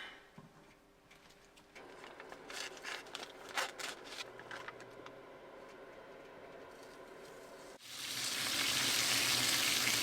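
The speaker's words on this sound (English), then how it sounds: "before I air fry this, I need to cook some bacon" Bacon frying in a pan inside a camper van, starting as a soft crackle with scattered pops, then turning abruptly into a loud, steady sizzle for the last couple of seconds.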